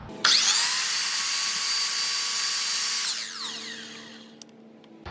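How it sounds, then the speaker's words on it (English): A miter saw set to a 5-degree back bevel cuts baseboard trim. Its motor whines loudly and evenly up close for about three seconds, then spins down with a falling tone into quiet. "I can clean up a lot of it here on the miter saw."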